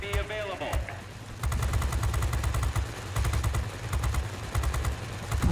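Aircraft machine guns in World of Warplanes, on an Arado 68 fighter, fire in long rapid bursts over a steady low engine drone, with a brief radio-style voice near the start.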